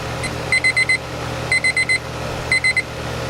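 A digital meat thermometer alarm beeps in three groups of four rapid high-pitched tones, evenly spaced, over a steady low hum.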